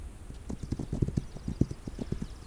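Horses gallop in the Western video game This Land Is My Land, a quick rhythmic run of clip-clop hoofbeats close by and clear, with no talk over them.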